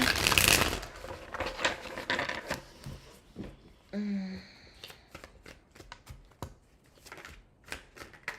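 Tarot cards are shuffled by hand in a flurry of soft riffling and slapping, close and fairly quiet, with a brief clinking sound and a voice speaking at moments between the shuffles.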